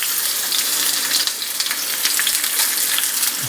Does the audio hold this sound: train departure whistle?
no